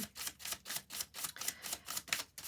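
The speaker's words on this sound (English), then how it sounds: "we do have a shuffle going on right now that is searching for a specific card" Tarot cards riffled and shuffled by hand, a rapid run of crisp papery flutters in repeated bursts, close and alone with no voices.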